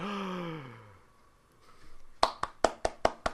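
Hand clapping: six evenly spaced, crisp claps close by come after a descending sighing vocal sound and a short lull.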